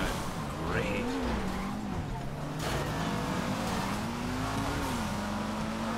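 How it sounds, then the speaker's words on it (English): Pfister Growler sports car in GTA Online sliding and fishtailing, a steady engine drone with a wavering pitch and a brief tire squeal, running continuously with a voice talking over it. "This car is very slippery. It's side to sidey."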